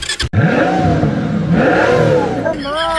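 A motorcycle engine revs and whirs during a riding lesson, rising and falling close by with voices talking over it.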